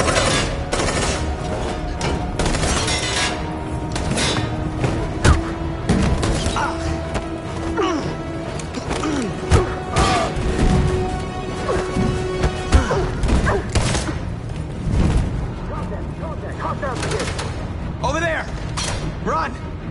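Combat in Detroit: Becoming Human, with bursts of gunshots and heavy thuds scattered through a noisy, chaotic scene as shouting voices carry over the shooting.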